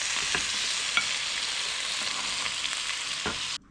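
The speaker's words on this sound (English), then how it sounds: "stir fry prickly chayote with the beef" Prickly chayote and beef stir-frying in a hot pan, a steady dense sizzle with occasional stirring scrapes, close and continuous before cutting off abruptly near the end.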